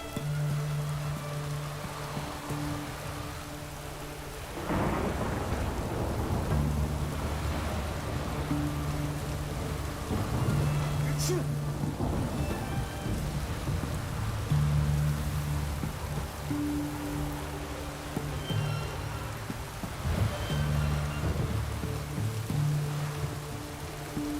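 Steady rainfall in The Witcher 3 game world, a continuous hiss of drops pattering on surfaces and water, with low droning tones and a sharper crack partway through.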